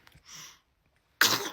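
A single sudden, loud sneeze bursts out near the end, following a few faint sounds and a short stretch of silence.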